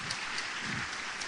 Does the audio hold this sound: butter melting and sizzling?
no